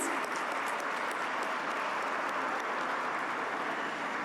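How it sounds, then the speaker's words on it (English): Applause from the audience at an awards dinner gala, a steady, dense wash of clapping that holds at an even level throughout, with scattered sharper individual claps on top and no talking. "Could we have a round of applause for our marvelous band"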